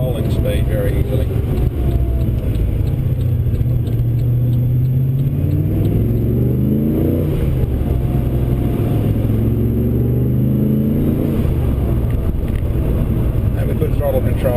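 A Vortech supercharged 402 LS2 VE GTS accelerates, its engine note rising and falling in loud waves of revving under a steady rumble, with a voice talking over it.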